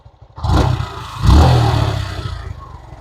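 A Suzuki Gixxer SF motorcycle engine idles and is revved twice in short, loud bursts close by, each rise settling back into a steady rumble.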